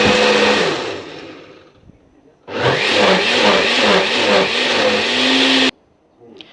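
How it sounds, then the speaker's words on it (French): Bananas and condiments are crushed in a kitchen blender, with a loud, close motor whir and grinding that starts, cuts off, then runs hard for about three seconds before stopping abruptly. "on va mélanger tous les condiments que nous avons présentés dans un mixeur et l'écraser suffisamment"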